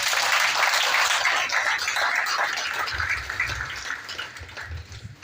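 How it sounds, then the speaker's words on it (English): Audience applause for the governor of Osun State at a ceremonial event in Ife, a dense, steady wash of many hands clapping that carries on loudly and thins slightly toward the end, with no talk over it. "please give our governor a resounding round of applause"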